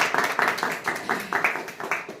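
A small audience at a fitness club celebration claps, a brisk, somewhat uneven run of hand claps at a moderate distance with a faint voice underneath.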